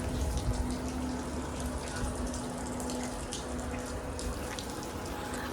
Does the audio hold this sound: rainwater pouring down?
yes